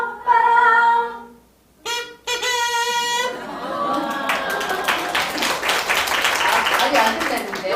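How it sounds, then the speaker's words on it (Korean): After a sung melody ends, an audience at a music education society's founding meeting breaks into sustained clapping that carries on for several seconds. "박수 많이 받으면 좋죠."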